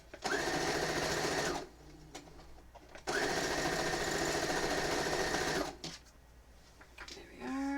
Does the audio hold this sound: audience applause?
no